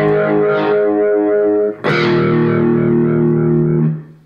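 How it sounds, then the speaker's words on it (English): Electric guitar through the flanger effect of a Blackstar ID:Core 40 practice amp, sustained chords with a sweeping, whooshing tone, restruck once partway and ringing out loud and alone before fading at the end. "Second one, it's more of a flanger, I'll put it towards the end so you can hear it a little better."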